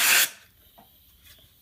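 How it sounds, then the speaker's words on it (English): Air compressor spray nozzle blowing out a handmade knife sheath: a short loud blast of hissing air, then quieter faint puffs and rubbing a moment later. "we're just going to take this spray nozzle and just kind of get in there and blow it out"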